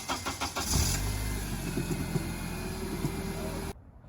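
A car fitted with duct-taped suspension starts up and pulls away, its mid-pitched engine rumbling steadily near the listener with a brief burst of clunks at the start before cutting off abruptly.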